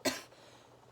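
One sharp, close cough from a person sick with covid, followed by quiet room tone.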